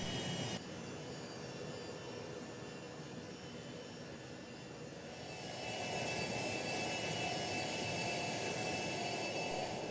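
Citation C-560XL business jet taxiing in the AirSim3D flight simulator, a steady jet engine whine with high tonal lines that swells louder around midway and holds a continuous roar, no voices.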